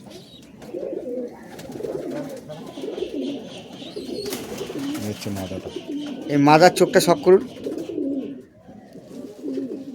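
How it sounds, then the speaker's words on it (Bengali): Racing pigeons kept in a home loft coo in soft, repeated throaty bursts, with a louder, close-up flurry of cooing near the middle while someone talks over them. "সবই রেজাল্টেড পায়রা"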